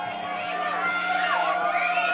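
A crowd at a high school football game between Minneapolis and Ell-Saline, a steady murmur of voices and distant cheering from across the field, with an announcer speaking over it.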